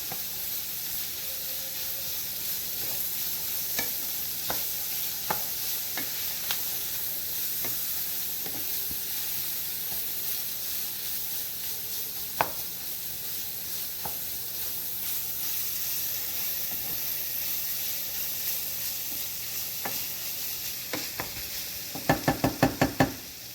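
Ground turkey and garlic sizzling in a pan for Cuban picadillo, a steady soft hiss under repeated sharp spoon knocks and scrapes, ending in a quick cluster of taps against the pan.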